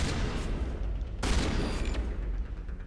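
A shotgun blast in the video game Mass Effect cuts through a dense wash of ongoing combat noise, one punchy burst standing out above the steady battle din.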